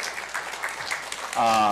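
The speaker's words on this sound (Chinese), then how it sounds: "请你站起来，互咱大家来甲伊拍一个掌声来感谢因" A church congregation claps for mothers at a Mother's Day worship service, a short patter of applause under a speaker's voice that swells louder near the end.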